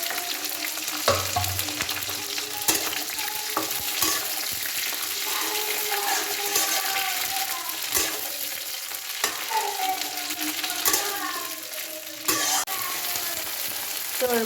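Garlic and green chilies fry in hot oil for a chili pickle, with a steady close sizzle and crackle broken by scattered clicks and scrapes of stirring.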